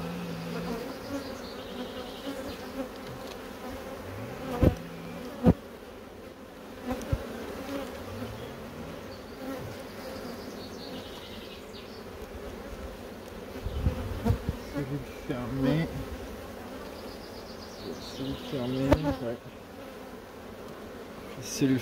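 A honeybee colony at an open hive after swarming and requeening hums in a continuous close buzz for the whole stretch, with occasional louder knocks and rustles from the hive being handled.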